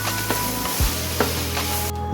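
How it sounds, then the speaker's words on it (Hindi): Minced beef frying with yogurt in a karahi, a steady close sizzle with a few soft stirring scrapes and clicks. "100 ग्राम मैंने दही लिया है और इसे अच्छी तरह से भूनेंगे।"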